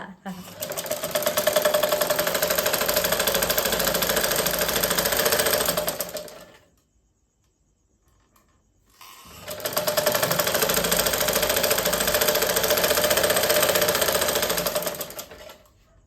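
A home sewing machine stitches a shirt being taken in to size, a steady rapid whirring run of about five seconds, a pause, then a second equally long run, loud and close.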